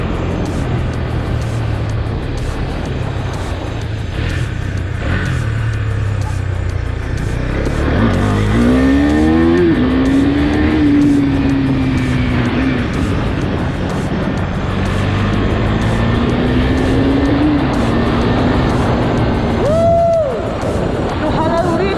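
Husqvarna Svartpilen 401 motorcycle engine revs and pulls through rising and falling pitch sweeps over a constant loud road roar, heard while riding, with voices talking over it.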